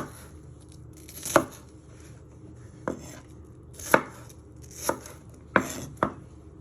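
A knife chops onion and peppers on a cutting board, six sharp, uneven thwacks spaced about a second apart, close and crisp against a quiet background.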